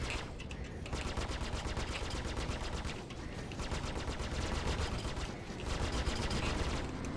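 Spaceship weapons firing continuously in the video game Star Citizen, a fast, steady stream of rapid-fire shots running throughout at moderate loudness with brief dips.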